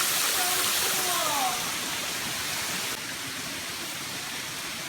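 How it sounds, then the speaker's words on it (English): A waterfall in Panama pours in a steady broadband roar, with brief whistling tones early on and a faint voice-like sound under the rush. "At the waterfall."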